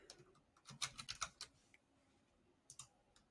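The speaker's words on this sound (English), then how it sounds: "let's go ahead and type in" Fingers tap on a computer keyboard in a quick flurry of soft clicks, then pause before a couple more keystrokes, faint and close in a quiet office setting.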